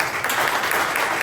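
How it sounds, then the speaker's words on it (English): Audience applause for a speaker at a London tech meetup hosted by Onfido, a steady dense wash of clapping filling the whole moment. "Another round of applause for Rahul,"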